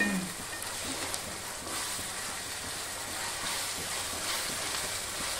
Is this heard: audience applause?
no